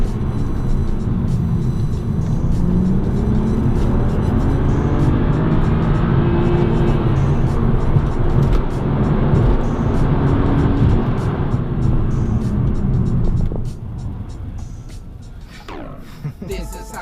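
A manual BMW M235i accelerates hard while racing an Audi RS6, with a loud, sustained engine roar close up from the cabin that drops sharply near the end as the throttle lifts.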